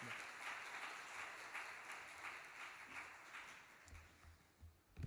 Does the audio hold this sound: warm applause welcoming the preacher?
yes